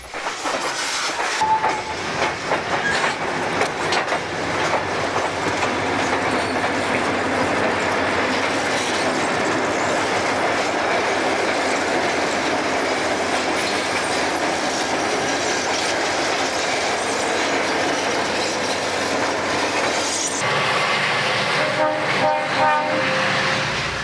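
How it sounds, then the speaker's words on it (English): A heavy loaded freight train heads north on the main line, a long stretch of loud steady rumble with rhythmic clacking of wheels and occasional squeal, ending with fading clatter. "Once on the main, the switch is set to normal, and the loaded train heads north."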